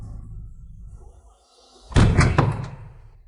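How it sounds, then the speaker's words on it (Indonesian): Knocking on a house door at midnight: a cluster of a few loud, close thuds against wood after a quiet, murmuring lead-in. "Tengah malam mengetuk-ngetuk apa?"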